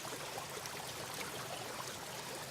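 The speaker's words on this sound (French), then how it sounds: "C'est ce qui produit ce son de l'eau qui tombe sur les pierres." Water tumbles over stones through small cascades and weirs along a stream in the Dumbarton Oaks garden, a steady broadband splashing rush, fairly close and continuous, with no voices over it.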